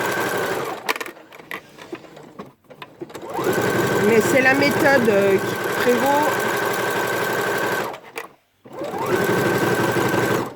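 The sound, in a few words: sewing machine stitching facing onto jersey fabric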